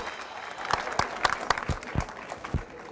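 A short burst of applause from a small group, sharp separate claps over about three seconds that thin out toward the end.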